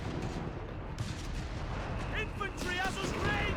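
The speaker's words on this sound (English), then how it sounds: "Some self-propelled artillery to further decimate the German lines." Bishop self-propelled artillery in Company of Heroes 3 fires in dense, booming battle noise under continuous commentary by a voice.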